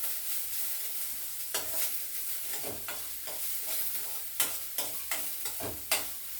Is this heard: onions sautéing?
yes